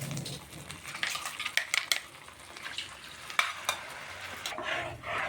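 Ground spice paste frying in melted butter for butter paneer, soft sizzling with a spoon stirring and scraping the pan in irregular clinks, close and fairly quiet.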